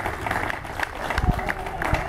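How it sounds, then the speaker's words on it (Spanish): Audience at a padel tournament final on the Match Point Serrano circuit applauds after the match, a steady mid-level patter of clapping with scattered louder claps and crowd noise throughout. "Aplauden todos. Gran final."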